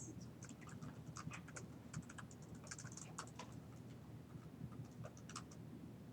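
Rapid, uneven keystrokes on a computer keyboard in a classroom-like setting, a continuous soft clatter of light taps over low background hum, with no speech.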